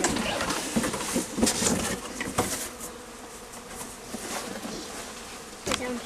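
A swarm of honeybees in Rochester, New York, buzzing densely and steadily after being shaken from their cluster, with sharp bursts and crackles as they stir, fairly close and loud throughout.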